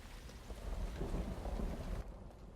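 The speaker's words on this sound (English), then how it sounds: "Oh, it's raining." Steady rain with rumbling thunder in the Myst Uru video game, a dense low roar that holds evenly, then drops away abruptly near the end.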